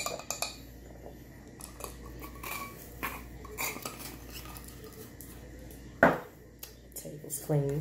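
A metal tablespoon scraping and clinking against wax in a container, soft close scrapes with one sharp knock, while someone talks.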